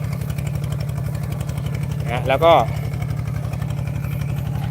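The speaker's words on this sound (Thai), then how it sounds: "เครื่องยนต์ใช้เป็นเครื่องยนต์คูโบต้า 15 แรงครึ่งของรุ่นใหม่ ZT นะครับ" Kubota 15.5 hp ZT engine on a farm tractor chugs steadily at idle throughout with an even low pulsing beat, while someone speaks briefly over it midway.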